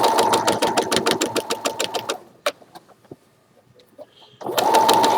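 Domestic sewing machine stitching a centered zipper, a fast even run of needle strokes for about two seconds, then a pause with small handling clicks before the motor starts stitching again near the end.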